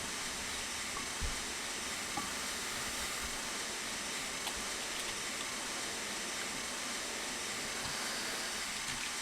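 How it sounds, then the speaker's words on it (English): Train brakes are applied in the Railworks 3 train simulator on the Elsecar Heritage Railway, giving a continuous broad hiss with faint rumbling and occasional small clunks, steady throughout and without speech. "So I'll start applying the brakes."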